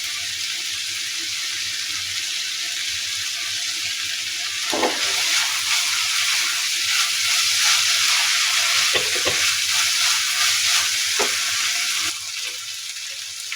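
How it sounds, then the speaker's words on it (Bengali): Chicken and vegetables with soy and tomato sauce sizzle loudly in a frying pan while being stirred, a steady close hiss broken by occasional scraping knocks of the spatula. "চিকেনটা দিয়ে আমি ভালোভাবে আবারও নেড়ে দিচ্ছি"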